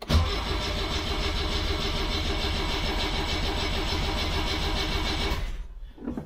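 A 1976 BMW 2002 engine cranks steadily for about five seconds without catching, then cuts off into near silence. The close, rhythmic churn of the starter stays even throughout, with no talk.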